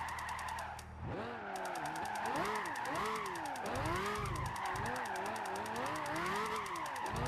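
A Lamborghini engine drifting in Gran Turismo 5 revs hard and continuously, its pitch swooping up and down through gear changes, with a brief dip near the start and hints of tyre skid, and no talk.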